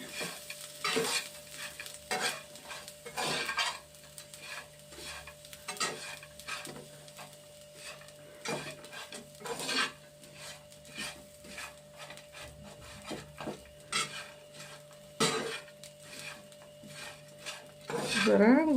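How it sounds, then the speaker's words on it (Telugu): Bitter gourd with chili powder is stirred and tossed in a pan, giving repeated scraping and rubbing strokes with a faint sizzle of frying underneath, close and fairly quiet, with no talk. "ఇవ్వండి కారం వేసాం కదండి, కలుపుతున్నాము"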